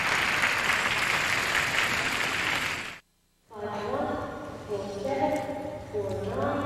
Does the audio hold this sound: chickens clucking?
no